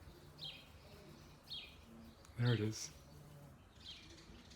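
Birds calling outside in spring, heard as a few faint, distant chirps spaced through the clip, with a voice speaking briefly in the middle.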